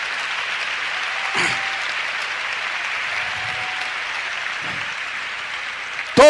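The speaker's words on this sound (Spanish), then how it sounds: "Vamos a aplaudirle al Señor porque Él provee para nosotros" A Pentecostal church congregation claps for the Lord, a steady wash of applause from a large room that continues throughout, with a few brief thumps and a sharp sound at the very end.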